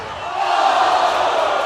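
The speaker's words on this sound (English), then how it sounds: "So great to have the crowd here, Brian, as you hear on the stream." A crowd at a WUCC 2014 ultimate frisbee match roars in a steady, swelling wash of cheering that fills the space continuously.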